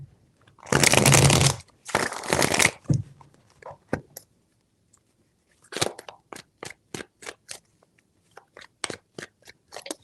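Two long bursts of tarot cards riffling close up, then a run of sharp separate snaps as cards are dealt or flicked down one after another.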